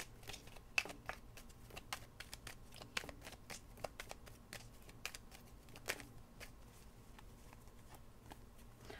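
Tarot cards being shuffled, a quiet, rapid run of light flicks and riffling ticks, close and faint.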